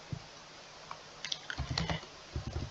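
A short word typed on a computer keyboard, a quick cluster of soft close key clicks after a brief pause.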